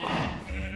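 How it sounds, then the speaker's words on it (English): Sheep bleating in Minecraft, a short nasal bleat heard twice in quick succession, faint and alone without talk. "We do have some mouthy cows and some noisy sheep."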